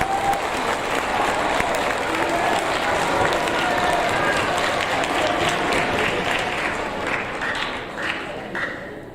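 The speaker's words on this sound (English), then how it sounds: "let's give them one more round of applause" Audience applause at an 8th grade awards ceremony, a dense, steady wash of clapping from a large crowd that holds for several seconds, then thins and tapers toward the end.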